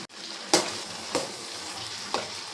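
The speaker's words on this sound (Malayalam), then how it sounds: "ഇട്ടിട്ട് നമുക്ക് നന്നായിട്ട് ഇളക്കാം" Okra curry (vendakka theeyal) stirred in a pan just after salt goes in, three distinct scraping strokes spaced about half a second apart over a soft background sizzle, close and fairly loud, with no voices.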